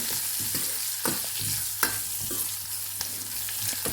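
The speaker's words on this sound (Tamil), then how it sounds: "இப்போ இது எல்லாத்தையும் நல்லா அந்த ஆயிலே நல்லா மிக்ஸ் பண்ணி விட்டுக்குவோம்." Garlic, black pepper and cumin fry in oil for onion rasam as they are stirred, a loud continuous sizzle with rhythmic scraping of the utensil against the pan, no voices.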